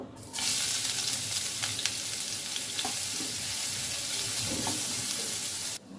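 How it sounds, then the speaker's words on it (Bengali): Sliced onions frying in hot oil after bay leaves go in, a steady, close sizzle that starts abruptly and holds evenly before cutting off, with occasional stirring scrapes. "এবার পেঁয়াজগুলো ভেজে নিব।"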